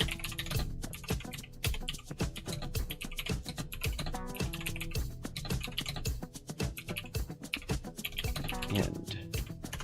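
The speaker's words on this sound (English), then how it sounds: "In fact, I'm typing that too." Rapid, steady typing on a computer keyboard, close and clear, with continuous key clicks and occasional heavier spacebar thumps throughout.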